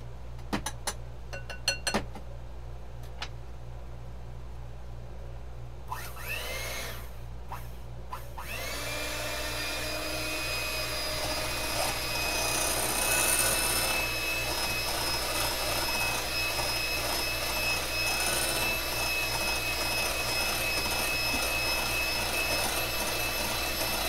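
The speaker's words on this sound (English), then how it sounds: "got my little hand mixer here" A small electric hand mixer whirs steadily after a few clatters and knocks at the start, then settles into a loud continuous high-pitched motor drone that runs for the rest of the clip, close and alone.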